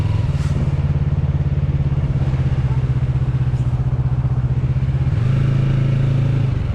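Motorcycle being ridden on the road, its engine a steady close rumble with a slight shift in pitch near the end, constant wind and road noise throughout.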